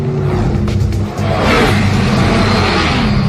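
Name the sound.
car engine revving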